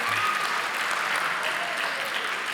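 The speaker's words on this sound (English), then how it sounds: "I'm not sure which of those people are applauding" Audience applause during a televised panel discussion, a dense, steady clapping that fills the whole short stretch, heard from within the studio.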